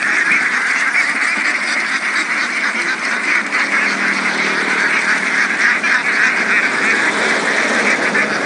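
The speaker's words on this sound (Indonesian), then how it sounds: "bebek-bebek itu sudah mulai turun dan ini digiring dengan bendera merah" A flock of about 250 ducks being herded with a red flag down into a rice paddy in a Javanese village, quacking loudly and continuously as a dense, overlapping chorus with no talk.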